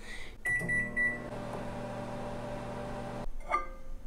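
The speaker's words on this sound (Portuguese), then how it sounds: "E agora é só levar para o micro-ondas por 1 um minuto." A microwave oven hums steadily at close range while heating cheese bread in a mug, with a couple of beeps at the start and a clunk as it stops near the end.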